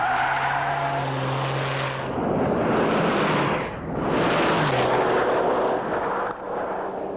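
A 1995 Porsche 911 Turbo pulls away hard from a standstill with a loud, rough engine roar and rushing noise, surging in two long waves with a brief dip between as it passes close by.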